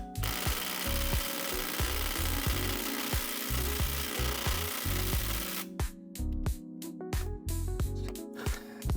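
Air impact wrench working on the lug nuts of a Honda Acty kei van wheel, loud rattling hammering bursts repeating in a steady series, with brief pauses between pulls near the end.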